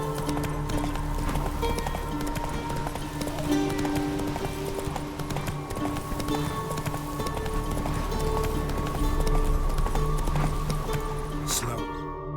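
Galloping hoofbeats of a horse in The Witcher 3 pound out a steady, driving rhythm throughout, close and loud over continuous game ambience and music.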